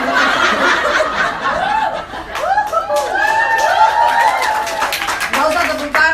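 A church congregation during a sermon breaks into scattered clapping mixed with chuckles and light laughter, mid-distance in a large hall, with the preacher's voice carrying over the crowd.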